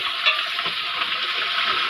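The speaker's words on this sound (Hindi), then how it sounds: "इसको कितनी देर तक फ्राई करेंगे चिकन को?" Chicken frying in a pot with ginger garlic paste for jungli pulao, a dense, even sizzle with light stirring scrapes, close and steady, with no talk.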